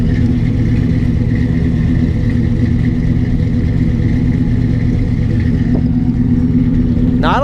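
A 1957 Chevy engine idles close by with a deep, steady rumble that holds at a constant loudness, plus a faint brief squeak near the end.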